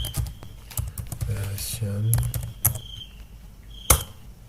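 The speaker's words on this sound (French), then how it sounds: "on tape cette commande version" Someone types a command on a computer keyboard: a close, irregular run of clicking keystrokes with short pauses, ending in one sharp, heavier key tap like a final press.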